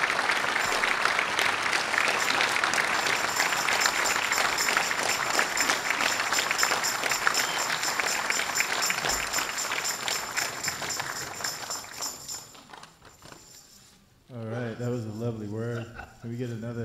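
An audience at a Martin Luther King, Jr. celebration in Davis applauds in a dense, sustained clatter that fades after about twelve seconds, followed by a voice speaking over the room.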